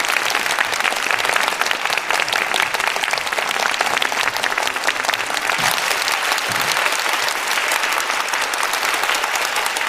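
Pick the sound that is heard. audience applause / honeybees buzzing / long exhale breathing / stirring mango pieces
audience applause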